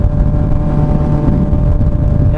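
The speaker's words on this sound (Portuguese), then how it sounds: "Você acelera, cara, a motoca responde, isso que é gostoso." A 2016 Honda CB1000R motorcycle engine held at a steady, loud, throaty drone close by, a continuous rumble with no pauses and no talking.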